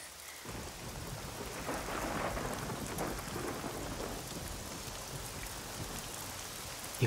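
Steady rain pours down under a low, rolling rumble of thunder that swells early on and lingers, the whole scene fairly faint and distant, with a brief knock at the very end and no voices.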